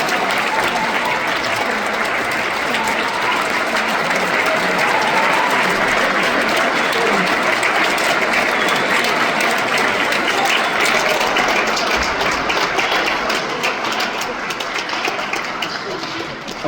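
Audience applause at a concert honoring performing bands, dense and loud, sustained steadily throughout with a slight fade at the end.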